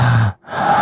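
A voice imitating heavy breathing, one deep, close breath drawn in and pushed out with a brief pause between, loud and alone.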